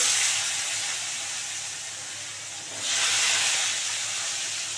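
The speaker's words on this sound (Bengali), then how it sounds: "এই যে এবারে একটা আলু দিয়ে দিলাম কেটে ছোট ছোট করে" Small chopped potato pieces dropped into hot oil with bay leaves for paneer ghugni, a loud broad sizzling hiss that dips, then surges again, with no talk.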